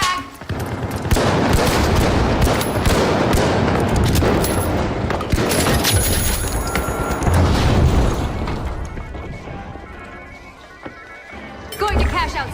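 A frag grenade thrown during a team match of the shooter game The Finals, its blast buried in dense continuous gunfire and booming explosions, with a voice talking over the chaos before the action thins out near the end.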